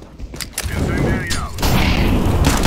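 An incendiary grenade is thrown in Counter-Strike: Global Offensive and then bursts into a loud, dense roar of fire that holds steady to the end, with faint gunfire and mechanical clatter near the start.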